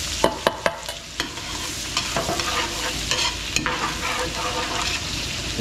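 Garlic and onion sauté in butter in a pan, with frequent close spatula scrapes and clacks over a steady low sizzle, no voices.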